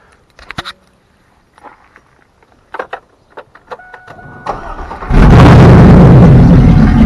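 A 2000 Camaro Z28 with an unfinished, loud exhaust: keys jingle and a few clicks and thumps come first, then the engine cranks and catches into a loud, steady roar at close range.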